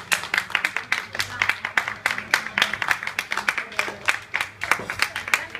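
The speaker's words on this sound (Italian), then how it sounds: "Potete anche applaudire." Theatre audience clapping during a live stage comedy performance, a lively stretch of many hands with clearly audible individual claps in a quick uneven rhythm, fairly close and loud.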